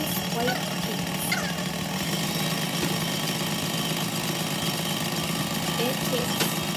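An electric mixer whisks macaroon batter in a bowl, giving a steady, unbroken motor whir with a faint buzzing vibration that holds at an even level from start to finish.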